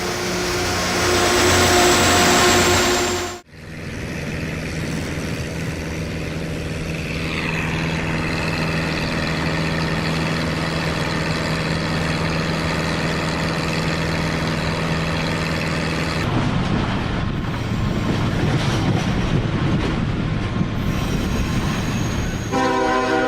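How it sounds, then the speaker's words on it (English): A rail grinder train working along the tracks, a loud sustained rumble with steady engine drone and tonal whine, a horn-like blast at the start and harsher grinding noise building in the later part. "This is a rail grinder, used to smooth out bumps and fix defects in the tracks."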